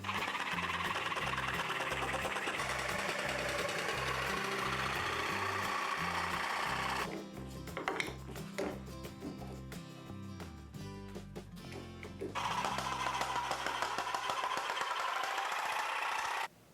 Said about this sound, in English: So when I'm cutting with the jigsaw,